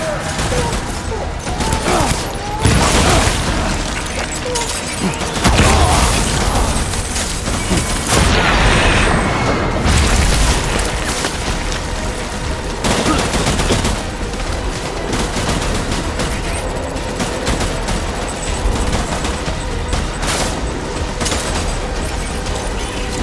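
Rapid bursts of gunfire and booming blasts in a video game firefight in Death Stranding, loud and dense throughout, with shouted voices mixed in.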